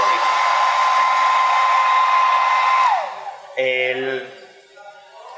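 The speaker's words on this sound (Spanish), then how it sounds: "¿Molesta mucho para la cámara el secador?" A hair dryer blows steadily and loudly close by to dry acrylic paint on a figure, then cuts off and spins down, followed by brief speech.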